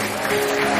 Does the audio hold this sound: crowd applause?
yes